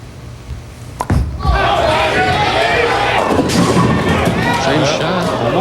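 A tenpin bowling ball crashes into the pins at the 2000 PBA Flagship Open, a sharp impact followed by a long rolling clatter under loud crowd noise in a large alley.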